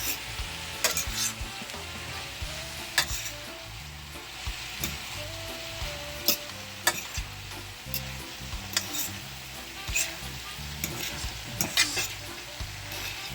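Plantain and pre-cooked, drained ackee being stirred and folded in a sizzling pan, with a steady fry hiss broken by repeated clinks and scrapes of the utensil against the pan. Background music plays beneath.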